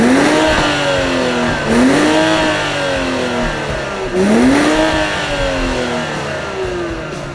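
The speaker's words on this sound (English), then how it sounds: "That sweet distinctive sound of a 6-cylinder engine." A BMW X5 xDrive 45e plug-in hybrid SUV's six-cylinder engine accelerates hard, its pitch climbing in sweeps with pauses between gear shifts, loud and close.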